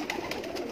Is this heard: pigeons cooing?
yes